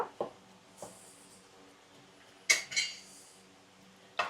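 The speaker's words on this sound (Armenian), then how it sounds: "Խառնում ենք, որպեսզի փրփրի, բարձրանա մի քիչ թթվասերը" A utensil stirs sour cream mixed with baking soda in a bowl for Armenian pakhlava. A handful of light, scattered clinks and taps against the bowl sound close by in a quiet room.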